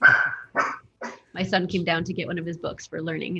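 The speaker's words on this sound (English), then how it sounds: "that's my dog in the background" A household dog barks and yips intermittently in the background while a person speaks over it, the barks partly blending under the talk.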